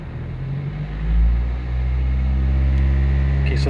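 A Toyota Celica engine with a misfire on cylinder one idles with a steady low rumble, then its revs rise toward 2,000 RPM and hold as an even, droning hum, close and fairly loud.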